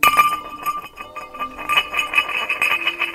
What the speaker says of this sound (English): I really like this one labeled hubcap.